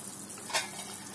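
Fried pirandai (adamant creeper) drops into boiling gravy with a short soft sizzling splash over a steady low bubbling hiss, close and brief.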